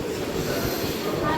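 A train pulls into Cuttack railway station, a continuous low rumble of rolling cars with wheels squealing on the rails, heard close with faint voices mixed in.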